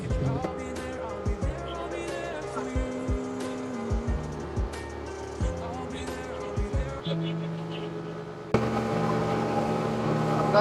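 Small speedboat running at speed from Pattaya toward Coral Island, with a steady engine drone and wind rush broken by thumps of hull slapping on water, while people talk over it.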